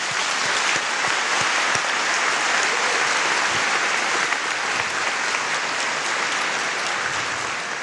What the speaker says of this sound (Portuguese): A eles uma salva de palmas.